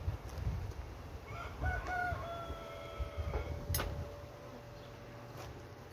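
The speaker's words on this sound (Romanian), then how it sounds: "N-ajunge că am eu un cocoș în curte, mai vin și cocoșii de la vecini" A rooster crows at a distance in a rural yard, one long drawn-out cock-a-doodle-doo that rises and then holds a steady note, faint against a soft outdoor background with a few clicks.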